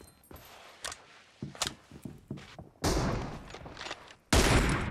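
Gunfire in PUBG Mobile: scattered single shots and footstep-like taps, then two loud, sustained bursts of close fire near the end.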